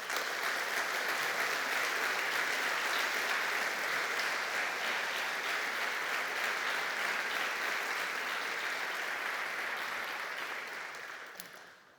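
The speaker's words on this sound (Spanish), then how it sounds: "os pediría un aplauso, por favor." Sustained audience applause fills the hall at a Spanish report presentation, a steady dense wash of many hands clapping for about ten seconds before tapering off, with no voices over it.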